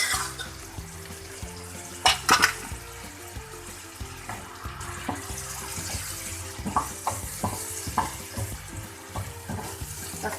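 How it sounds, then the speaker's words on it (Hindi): Radish (mooli) batter poured into a hot pan and frying for mooli ki bhujia, with a watery sizzle and bursts of stirring and scraping around two seconds in, followed by soft clinks of a utensil against the pan. "इसमें जो मैंने ये मूली का बैटर बनाया था ये डालूंगी"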